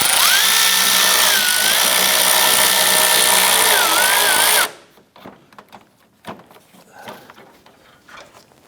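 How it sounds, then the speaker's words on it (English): A power tool fitted with a 10mm socket whirs steadily for about four and a half seconds, loosening a nut during AC condenser work on a 2004-2008 Acura TL, then stops, leaving quiet metallic clicks and handling sounds. "we're going to go ahead and use our 10mm socket. Loosen this nut here."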